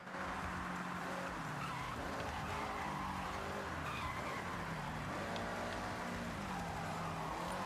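Tires skid and squeal on a car in the racing game Forza Horizon 6, a steady rasping slide with engine drone running continuously throughout, fairly loud and close, no voices.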